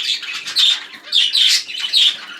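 A young zebra finch, normal mutation and almost fully feathered in juvenile plumage, calls from close by in a shed: four loud, nasal squawking calls in quick rhythmic succession with no talk.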